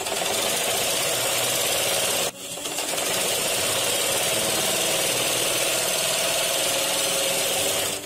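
A sewing machine stitches along the folded edge of a bag, its fast steady whirring motor running close and loud, with one brief pause after about two seconds before it resumes; no voices.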